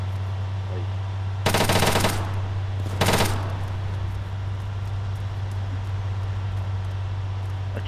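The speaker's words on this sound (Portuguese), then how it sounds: "Eles estão me atirando, estão me atirando" Two loud bursts of rapid automatic gunfire ring out in the Arma 3 Altis Life game, each about half a second to a second long, over a steady low engine-like hum.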